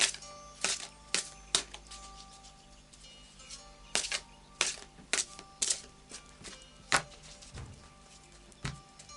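Tarot cards are shuffled and tapped near the listener, with sharp, separate riffles and snaps coming in irregular clusters over a quiet background.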